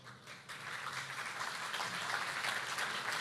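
Audience applause at a family conference, a steady faint wash of many hands clapping at a distance, sustained without a break.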